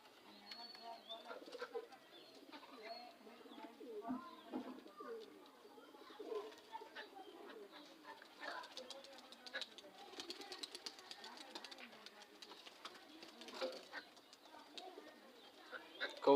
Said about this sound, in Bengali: এই যে কবুতরের বাচ্চাগুলো সব ছেড়ে দিয়েছি।